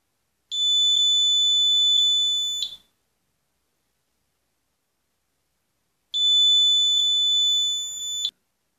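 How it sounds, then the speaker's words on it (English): An Arduino Nano security system with an ultrasonic sensor sounds its buzzer, a loud, steady high-pitched electronic tone held for about two seconds, then silence, then a second identical burst. "when someone enters the door opening, the buzzer sound will start automatically"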